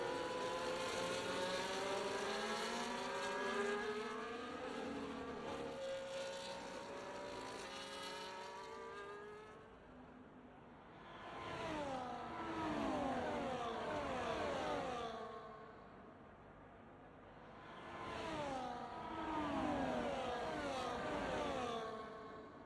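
Several F1 race cars in a British Grand Prix video game race, engines screaming and shifting up through the gears as they pass close together, pitch sweeps rising and falling in repeated waves, with no talk over them.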